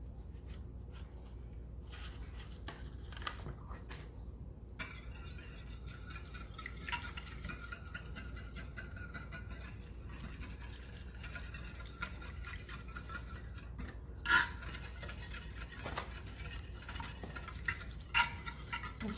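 A spoon stirs a seasoning packet into canned soup for a chicken and onion casserole, a quiet, steady scraping and swishing through a thick mixture that runs on throughout, with a few louder clinks near the end.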